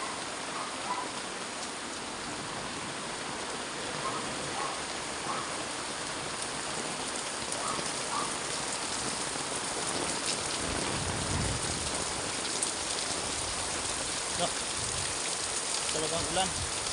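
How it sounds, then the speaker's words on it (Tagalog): Heavy rain pours down steadily in a wet outdoor spot, a dense, unbroken hiss of drops drumming on surfaces that stays loud and constant from start to finish, with no voices clearly standing out. "Lakas talaga ng ulan dito."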